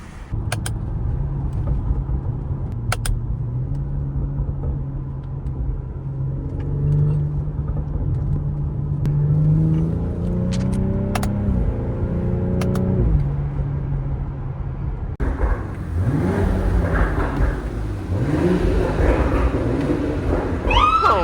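A BMW X3 M40i with an aftermarket valved exhaust drones at idle, then revs repeatedly with rising and falling pitch and a few sharp pops, growing louder and rougher toward the end.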